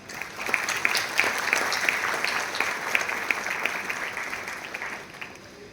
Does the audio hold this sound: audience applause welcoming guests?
yes